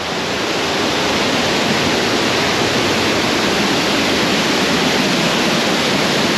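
Waterfall near Lake Louise in Banff, a loud, constant roaring wash of falling water close by with no break, filling the whole scene.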